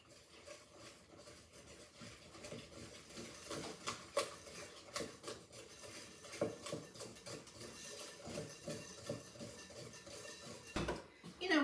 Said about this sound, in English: So now we need 1/3 cup of all-purpose flour. Okay, and we're just gonna stir it in.